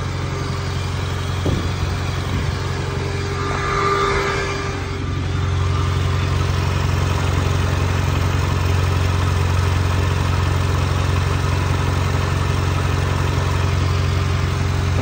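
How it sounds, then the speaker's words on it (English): A car engine idles steadily nearby with a low, constant hum and rumble, running evenly throughout. "Car's been idling for about 10-15 minutes."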